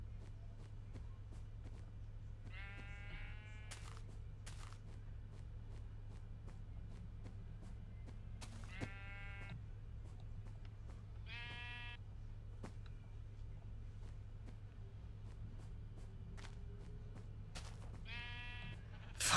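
Sheep in Minecraft bleat four or five times in short wavering calls spaced several seconds apart, over a low steady hum, with no talking.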